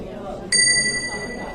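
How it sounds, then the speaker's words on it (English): Phone notification chime in an animated cartoon, a single bright bell-like ding that rings out and fades over about a second against a quiet background. "it looks like I just received a notification on my phone"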